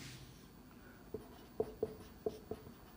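Chalk taps and strokes on a board during a maths lesson, five short knocks in an uneven rhythm, close and fairly faint over a quiet room.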